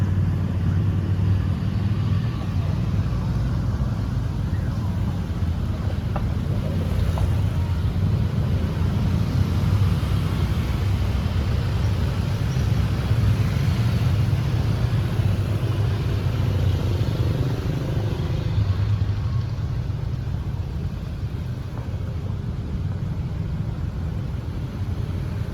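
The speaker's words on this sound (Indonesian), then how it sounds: "Lalu lintasnya cukup ramai dan lumayan padat." Steady, busy road traffic in the Kota Lama old town district of Semarang, a continuous low rumble of passing cars and motorbikes with some wind noise, no clear voices.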